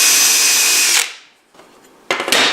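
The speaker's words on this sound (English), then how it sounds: "then I'll drill out for the counter bores on the other side and then drill these holes all the way through." A power drill bores into wood with a loud, steady high whine that spins down, pauses briefly, then starts up again close by.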